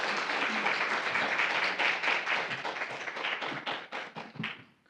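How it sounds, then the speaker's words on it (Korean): A church congregation claps in welcome for a visiting pastor, starting as a dense burst of applause that thins into separate hand claps and fades out over several seconds. "우리 박수로 환영하겠습니다."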